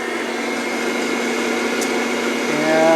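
A Sweet Maria's Popper coffee roaster roasts beans with a constant loud whooshing fan roar and hum, swelling slightly at the very end.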